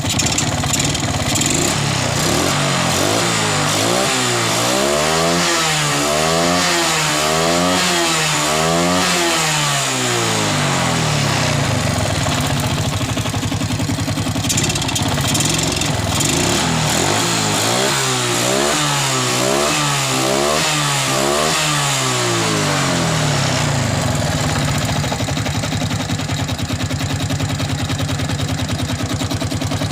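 A Suzuki Smash 110 motorcycle engine, left unused for nearly five years, revs up and down in two long sweeping bursts, loud and close, with steady idling between and after.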